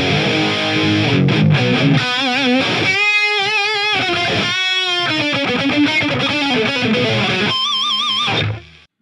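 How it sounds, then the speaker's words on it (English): Electric guitar passing through an Eventide effect blended into the mix, playing distorted sustained notes and wavering chord tones with a shimmering, widened texture, loud and steady until a sudden stop. "now I can blend in the eventide."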